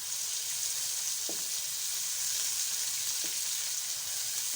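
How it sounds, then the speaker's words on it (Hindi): Onions sizzle and fry steadily in a few spoonfuls of ghee in a kadai, with a continuous bright crackle and a couple of faint stirring knocks. "इसमें घी डाल लिया है तकरीबन 2 से 3 चम्मच और अब मैं इसमें डाल दूँगी प्याज"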